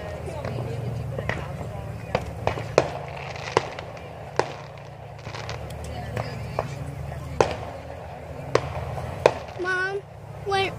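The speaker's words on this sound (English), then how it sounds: "when the fireworks go up and then they explode" Fireworks bursting at a July 4th display in Rapid City, a series of sharp, distant bangs and crackles spread irregularly over a low crowd murmur, with children talking nearby.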